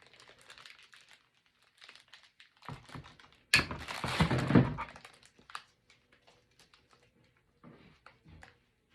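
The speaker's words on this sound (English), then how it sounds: "I'm going to go ahead and cut this flower." A craft flower for a candy-themed centerpiece is cut, with faint snips and crinkling paper or plastic, then a louder burst of rustling and crumpling in the middle before quieter handling sounds.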